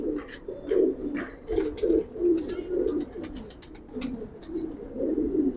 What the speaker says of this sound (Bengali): এত সুন্দর কবুতর